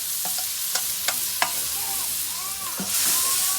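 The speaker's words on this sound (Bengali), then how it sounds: "এখন 5 মশলা দিয়ে সুন্দর করে কষিয়ে নিব।" Five spices sautéing in a pan for dal, a soft steady sizzle broken by a few sharp scraping strokes of a spoon stirring, quiet and close with no talk.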